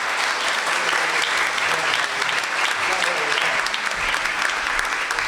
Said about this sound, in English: to end the night, another round of applause